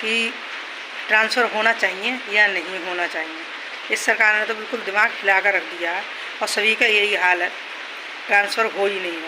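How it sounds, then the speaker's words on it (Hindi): Steady heavy rain hisses in the background as someone talks continuously over it. "आप सुन सकते हैं कितनी तेज़ बारिश हो रही है"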